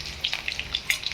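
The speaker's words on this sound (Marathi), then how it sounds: "मोहरी टाकायची," Mustard seeds crackle and spit in hot oil for dal kanda, giving a brief burst of scattered small pops over a soft background hiss.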